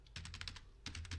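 Computer keyboard typing a file name, two quick close bursts of key clicks separated by a short pause, soft and alone.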